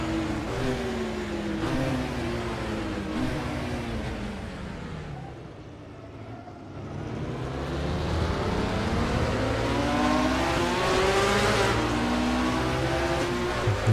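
A Ferrari 330 racing car in a historic Le Mans racing game, its engine droning loudly and steadily with rising and falling pitch as it laps, easing off midway before climbing again.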